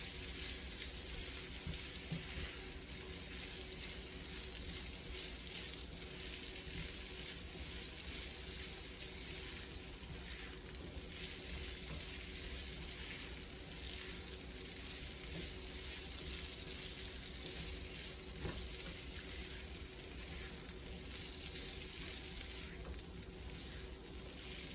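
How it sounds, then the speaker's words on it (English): Chopped boiled potatoes stirred into masala in a frying pan, a steady sizzle with soft scraping and stirring noises underneath, continuous and close, no voices. "I'm going to mix them well together"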